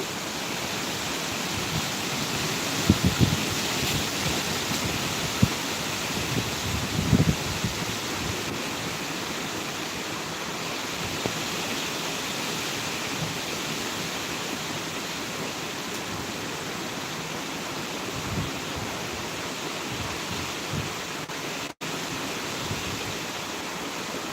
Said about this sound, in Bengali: ঝড়ে আওয়াজ দেখে বুঝতে পারছি যে প্রচণ্ড ঝড়ে দেখো